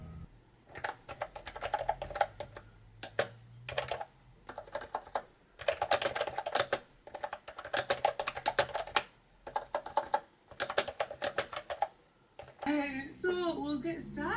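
Rapid keystrokes on a Mofii Candy mechanical keyboard come in bursts of close, crisp clicking with short pauses between runs, ending with a brief stretch of speech.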